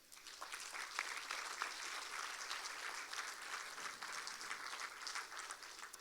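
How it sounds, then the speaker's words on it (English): Audience applause at a small-town fall festival pageant in Dale, sustained and fairly faint, a steady wash of many hands clapping for about six seconds with no voices on top. "We're going to applaud for you anyway, so let's give it up for Thurmwood."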